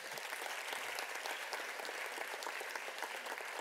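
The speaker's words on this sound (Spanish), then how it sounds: "Fuerte el aplauso para ellos." Steady applause from an audience at a community dance event, a fairly faint, continuous patter of many hands clapping that holds evenly for the whole stretch.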